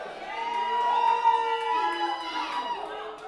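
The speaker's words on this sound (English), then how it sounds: "Let me hear a cheer from you." Wedding guests cheering and whooping together, a loud sustained crowd roar with high shouts and children's voices rising and falling over a few seconds.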